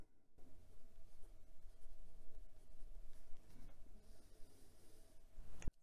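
A medium steel nib on a Penbbs 323 aluminum fountain pen scratches faintly across paper in close, soft strokes with small pauses, nearly silent apart from a sharper knock at the very end.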